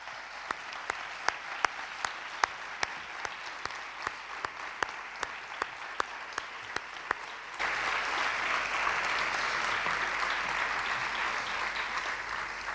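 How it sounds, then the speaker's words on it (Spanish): Theatre audience at an international flamenco competition applauds in a long, steady burst of dense clapping that fills the room. It follows a stretch of sparse, sharp individual claps. "el primer aplauso quiero que sea a la memoria de Pedro Bacán"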